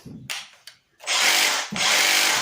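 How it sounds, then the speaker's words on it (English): A Makita brushless reciprocating saw cuts through material in loud, close bursts, with a couple of short starts followed by two sustained runs of harsh buzzing separated by a brief gap. "you'd get a nice straight cut with this sawzall"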